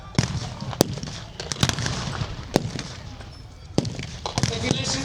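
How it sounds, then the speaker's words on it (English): Battle reenactment gunfire at Bovington Tank Fest: sharp rifle and blank-fire cracks ring out irregularly, some single and some in quick pairs, over a busy outdoor crowd and engine rumble. "the rather large amount of gunfire we've got going on here"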